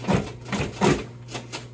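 A Consew 226 industrial sewing machine runs in short bursts, several close rhythmic mechanical whirring pulses over a constant low hum.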